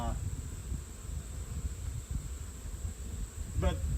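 Low, steady honey bee buzzing at a hive fills the background, a dense drone that continues throughout with faint voices mixed in.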